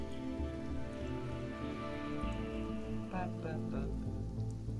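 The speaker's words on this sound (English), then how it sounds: "The rain's still coming down, which is going to refill some of this for us." Rain falls steadily in the survival game Sheltered, a soft continuous patter under a droning low music bed, with no talking.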